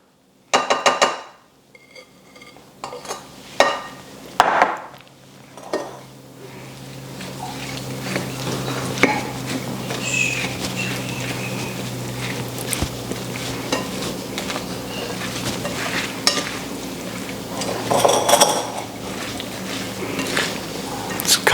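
Coleslaw dressing being tossed into shredded cabbage in a bowl: a few sharp clinks of a utensil against the bowl, then a long stretch of wet, continuous stirring and scraping, close and moderately loud, with some faint talking.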